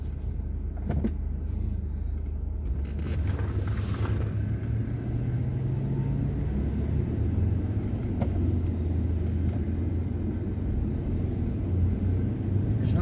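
Steady road traffic rumbles continuously, vehicles passing near a car parked along a roadside, a constant low engine and tyre drone with no speech.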